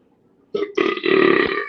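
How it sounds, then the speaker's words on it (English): A loud, close burp from a viewer reacting to a boxing press conference, rising from a brief croak into a long, drawn-out belch of more than a second, alone with no talk over it. "burping on the panel"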